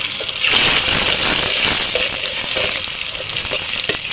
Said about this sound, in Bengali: এখন আমি কড়াইয়ে দিচ্ছি হলুদের গুঁড়ো আর দিচ্ছি মরিচের গুঁড়ো। আর এর মধ্যে দিয়ে দেবো আমি কাঁচা লঙ্কা।